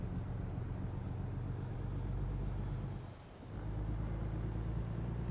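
Heavy truck engine in American Truck Simulator, a steady low rumbling drone that dips briefly as gears shift and then resumes at an even, constant level.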